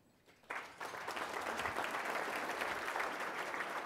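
Audience applause breaks out and swells to a steady, full clapping that continues alone, welcoming a guest speaker at a financial group's client economic outlook event.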